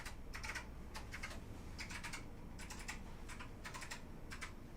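Rapid clicking keystrokes on a computer keyboard while a password is entered during a desktop BIOS-update repair, coming in short irregular bursts close by, steady and unaccompanied by talk.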